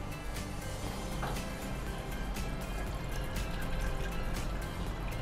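Water poured into a cooking pot on a stove while preparing horse gram laddu, a steady splashing, liquid fill with faint drips, close and fairly constant throughout without talk.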